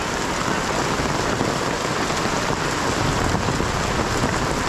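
A heavy downpour roars evenly and close by, a thick wash of rain noise with no voices, following a hailstorm in Palpa, Nepal.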